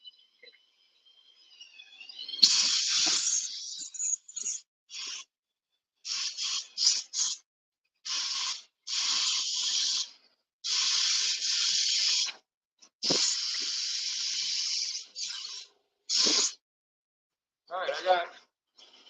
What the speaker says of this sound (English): I'm just going and spraying those.